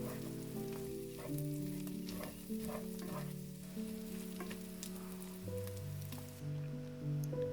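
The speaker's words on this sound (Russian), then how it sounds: "Теперь отправляю лук прямо к фаршу, аккуратно перемешиваю и обжариваю еще пару минут" Onion and minced meat frying in a pan, with a steady sizzle and occasional stirring scrapes running throughout, close and moderately loud, with no talking.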